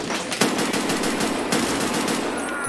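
Rapid bursts of Lapua Mk-18 rifle fire in the shooter game Escape From Tarkov crack out as sharp repeated shots in quick succession, loud and close, with no talking.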